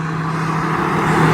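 Steady, loud road traffic on a busy, noisy stretch of Hell Green Road beside an old church, with a continuous engine rumble and tire roar filling the whole short moment and no talk.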